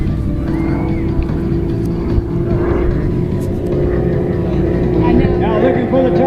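Aerobatic airplane engine droning steadily at high RPM as the aircraft pulls into a vertical roll during airshow manoeuvres, a loud continuous tone with a person talking over it.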